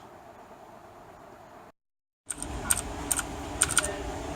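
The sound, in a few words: typing on a mechanical computer keyboard in a tech store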